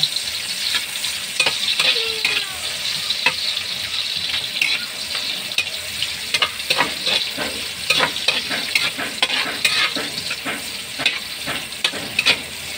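Garlic and onion frying in a pan while being stirred for a crab and mussel coconut dish, a steady close sizzle broken by repeated scraping strokes and clicks of the utensil against the pan.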